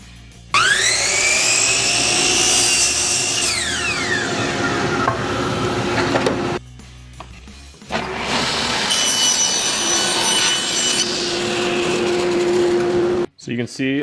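Cedar 2x4 boards are cut with a loud power saw. It whines up, cuts in a sustained rasping buzz, pauses, and then cuts again, close to the listener and mostly on its own.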